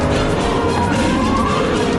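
An Audi R8 sports car on a track roars loud and close under hard throttle, its engine note rising with a rough tire scrub blended into the noise.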